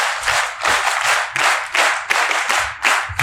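An audience at a design talk claps together to welcome the keynote speaker. The loud, full claps come in roughly synchronized waves about every three quarters of a second.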